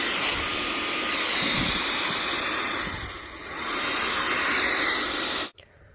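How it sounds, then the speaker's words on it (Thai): A 3-in-1 portable turbo jet fan used as a vacuum roars with a loud, steady airy hiss, dipping briefly midway, then cuts off abruptly near the end. "ความแรงในการดูดครับก็ถือว่าแรงมากนะครับ ดูดเศษหินก็เล็กได้แบบสบายๆเลยนะครับ"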